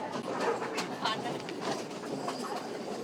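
A passenger train ride in Sri Lanka, with a steady rumbling roll and faint rhythmic rail clatter filling the carriage, heard from inside at moderate loudness, with a voice faintly present under the noise.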